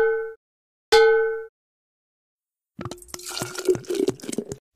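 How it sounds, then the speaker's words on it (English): Two clear chime tones sound in the Molly of Denali winter kitchen game, then water pours into a cooking pot with a bright, splashy burble lasting almost two seconds. "Then add the water to the pot."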